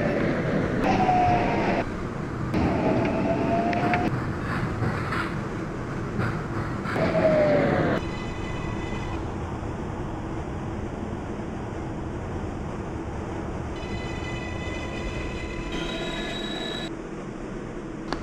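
A New York City subway 6 train rolls along with a rumbling roar, its wheels squealing in repeated high whines, followed by steady running noise and electronic motor tones as it travels.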